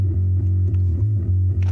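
Reamped bass guitar captured by a Yamaha Subkick in a thrash metal mix, a loud, dense low-end tone with sustained notes and brief dips between picked notes, alone without voices.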